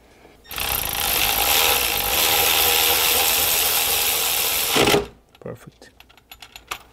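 A power ratchet or impact tool buzzes loudly for about four and a half seconds while tightening starter bolts on a Honda Odyssey, then stops, followed by light metallic clinks and handling sounds close by.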